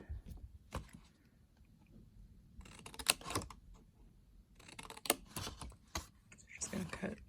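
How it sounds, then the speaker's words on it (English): Scissors cut slits into paper for a handmade present gift box, angled snips making several sharp crisp bursts spaced a second or two apart, close and moderately loud over faint room noise. "you take your scissors and you'll cut the slits"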